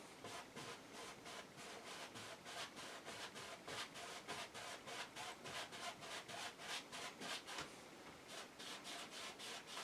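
A paintbrush making crisscross strokes on canvas during an oil seascape painting, a quiet, close, rhythmic brushing of repeated short scrubbing strokes at a steady pace.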